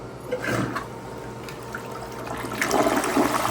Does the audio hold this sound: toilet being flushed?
yes